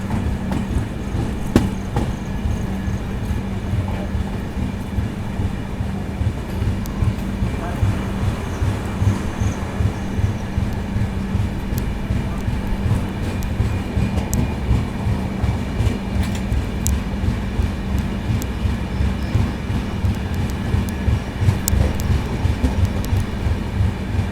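Jabalpur–Mumbai Garib Rath Express 12187 running along the track, a steady loud low rumble with faint rhythmic clatter of the carriages, continuous throughout with no clear voices.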